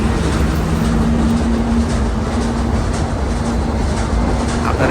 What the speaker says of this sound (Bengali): একই সঙ্গে ট্রেন আর বাসের চলাচল